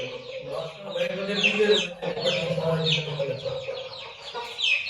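Aseel chicks peeping in a chorus of high, repeated chirps throughout, with adult hens clucking nearby on a poultry farm; a voice talks over the birds at moderate level.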